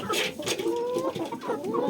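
Backyard hens cluck continuously and close by, a busy overlapping chatter of short fowl calls with no talk.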